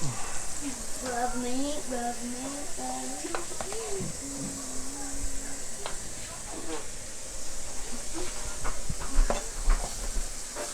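Meat searing in a hot pan, a steady soft sizzle and hiss underneath someone talking, with occasional clinks and scrapes of stirring.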